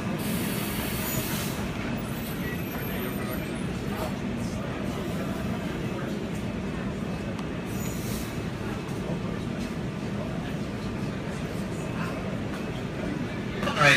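A SEPTA Silverliner V train pulling into Suburban Station, a rumbling rail roar with wheel noise that holds steady throughout, under faint station announcements.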